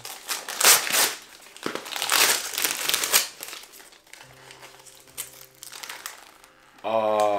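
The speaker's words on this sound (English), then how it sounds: "I kind of cut the wrapping paper a little too short, so just open it up like a little kid" Wrapping paper on a gift is crinkled and torn open in loud, close bursts of rustling, with some talking in between and a louder crumple at the finish.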